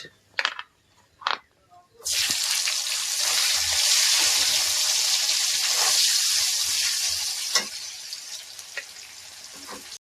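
Sliced onion dropped into hot oil with bay leaf and whole spices, a sudden loud sizzle that bursts in after a few light clinks and holds steady for several seconds before tapering off.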